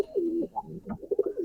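A pigeon coos softly up close, a short series of low, throaty warbles in quick succession.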